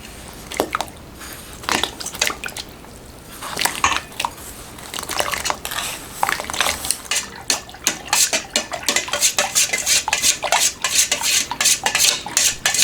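A sodium compound being mixed into a mixture for lost-PLA metal casting, with busy, close clattering and scraping of a utensil against a container, rapid irregular strokes growing denser and louder toward the end, no talking.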